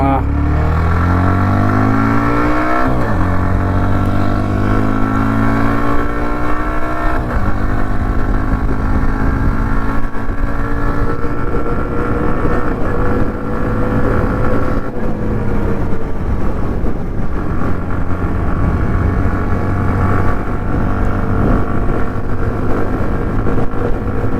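A Hero Xtreme 125R 125 cc motorcycle engine revs up loudly through several rising accelerations while being ridden, with constant wind and road roar, and a rider talks over it.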